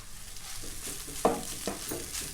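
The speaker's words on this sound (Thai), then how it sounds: "เดี๋ยวขอผัดก่อน" Rice with shrimp paste being stir-fried in a pan, a soft close sizzle with a few scraping stirs and one sharper clack of a utensil, fairly quiet, no voices.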